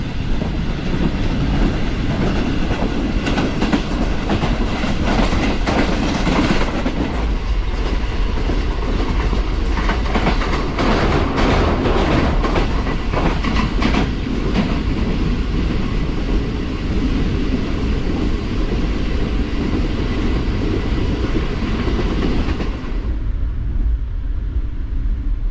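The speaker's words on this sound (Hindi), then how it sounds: "ट्रेन हमारी दरमियानी रफ्तार से बढ़ रही है लाहौर की जानेब।" A Pakistan Railways Green Line passenger train heading toward Lahore at moderate speed, heard from inside the carriage: a steady, loud rolling rumble with clickety-clack from the wheels, continuous throughout and fading slightly near the end, with no talk.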